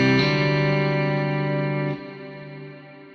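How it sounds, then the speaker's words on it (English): Guitar played through a Fractal Axe-FX III with a cloud-style reverb preset: a sustained distorted chord rings out thick and lush, slowly decaying, then drops abruptly to a softer, airy reverb tail. "It's like a cloud reverb."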